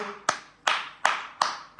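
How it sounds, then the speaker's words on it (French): A few hands clap in unison for Saïwa and Tablé, five sharp, evenly spaced claps with a slightly reverberant room tail after each. "On applaudit Tablé."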